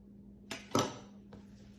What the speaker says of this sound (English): I'm just going to take those rolls and cut them in half.